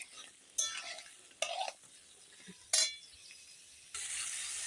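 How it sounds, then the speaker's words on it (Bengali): Pointed gourd (potol) frying in a wok, heard as a few bursts of sizzling and stirring with light metal clinks, separated by quieter pauses, then a sustained sizzle at the end. "এখন পটলগুলো দিয়ে দিয়েছি কড়াইতে এই তো পটলগুলো এখন ভেজে নেব"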